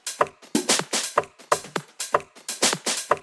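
Tech house percussion loop from a sample pack, a dense run of crisp, wooden-sounding hits in a steady, busy rhythm, loud and close with no voice over it.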